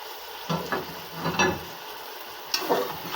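Chopped ginger and garlic fry in a pan for Lucknowi-style keema, a soft steady sizzle broken by several scraping stirs of a spoon, close and fairly quiet, with no talking.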